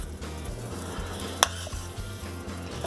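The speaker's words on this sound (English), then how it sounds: "we're going to stir the pot a little bit" A spoon stirs a pot of cabbage soup with dill and fresh pork, giving a soft, steady swishing with a low hum beneath and a single sharp clink of metal near the middle.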